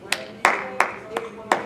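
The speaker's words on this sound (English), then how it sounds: "just clap." Hand claps in a theatre workshop, five separate sharp claps in uneven timing, close and fairly loud, each with a short ringing tail in the room.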